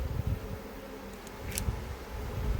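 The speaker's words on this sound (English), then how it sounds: "There are lots of bees just, and there's a wasp" Honey bees buzz around an opened hive in an apiary, a faint steady hum of many insects with a brief higher whine passing close partway through.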